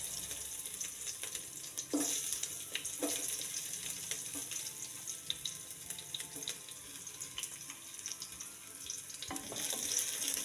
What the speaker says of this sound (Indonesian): Setelah panas, masukkan bawang merah, bawang putih,